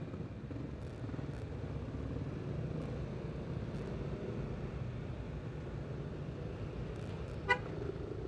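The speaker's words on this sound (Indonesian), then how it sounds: "Oh, iya nih, gara-gara ada truk mogok jadi macet guys." Road traffic stuck in a jam behind a stalled truck, with a steady low engine drone and a few short, distant car horn toots, one sharper honk near the end.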